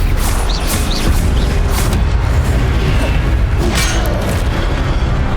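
Spell-casting in Hogwarts Legacy, a Stupefy stun spell fired repeatedly amid dense, loud, continuous game combat with booming impacts and clatter filling the whole stretch.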